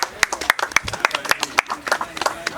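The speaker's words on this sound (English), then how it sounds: "Another round of applause to Astar 95." A small audience claps for a performer, a few sharp distinct hand claps standing out over a thinner spread of applause, with some voices in the background.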